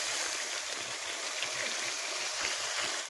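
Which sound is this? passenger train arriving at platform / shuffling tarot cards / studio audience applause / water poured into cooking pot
water poured into cooking pot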